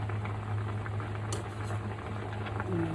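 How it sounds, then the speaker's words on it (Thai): Southern Thai sour curry with pineapple and canned fish coming to a boil in a pot, a steady close bubbling with a low hum beneath. "เริ่มเดือดแล้วนะครับ"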